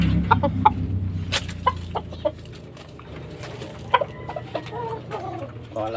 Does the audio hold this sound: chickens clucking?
yes